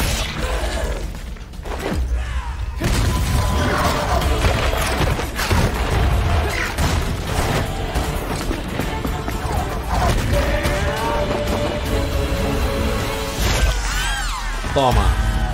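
Gunfire and combat impacts in Devil May Cry 5, loud bangs, crashes and shattering hits in dense bursts, with a player talking excitedly over the action.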